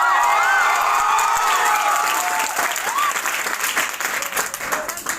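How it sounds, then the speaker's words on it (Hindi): A stage event audience gives loud sustained applause with cheers and whoops for a police officer invited as chief guest. The dense clapping is heavy at first and then thins out, and a voice speaks over it near the start. "जो आप तालियां मेरे लिए बजा रहे हो"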